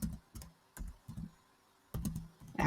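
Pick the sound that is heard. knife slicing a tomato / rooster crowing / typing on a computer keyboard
typing on a computer keyboard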